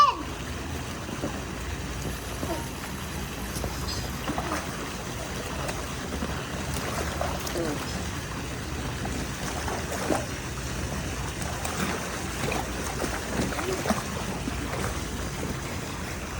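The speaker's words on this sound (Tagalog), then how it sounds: "Bago kong bangka." Steady broadband wash of water around a small boat at Anilao, Philippines, with lapping and splashing throughout and faint voices now and then.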